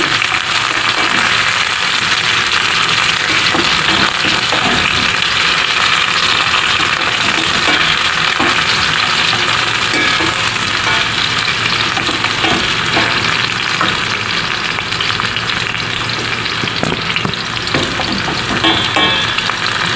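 Onion frying in a pan for a chicken curry until golden brown, a steady loud sizzle with faint stirring, continuous and close throughout with no voices.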